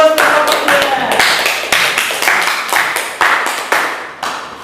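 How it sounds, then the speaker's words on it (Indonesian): Students in a classroom applaud for group 2, with a steady run of close, sharp hand claps that keep a fairly even rhythm for several seconds. "berikutnya kita beri aplaus untuk kelompok 2"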